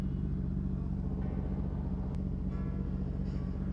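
A Honda CBR 600 sport motorcycle being ridden on backroads, a steady, loud low engine rumble with road and wind noise running throughout without a break.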